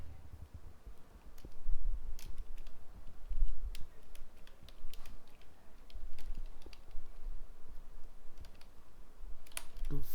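Soft, quick keystrokes clatter on a computer keyboard in irregular bursts, quiet and close, with scattered clicks and no voices.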